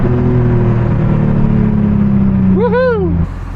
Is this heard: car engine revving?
yes